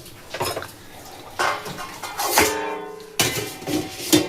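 A metal lid set down over a pan of buttered cream roll pastries, giving a few separate clanks and rattles of metal on metal, close and moderately loud with no talking.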